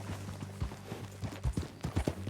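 Horse hooves in Red Dead Redemption 2, a steady clip-clop of walking steps in irregular pairs, close and clear over faint game ambience.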